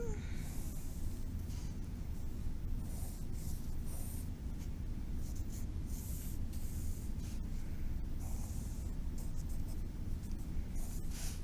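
A pencil sketching lines on paper for a face drawing, with continuous close scratchy strokes in quick repeated bursts and short pauses between them, heard alone and fairly steady.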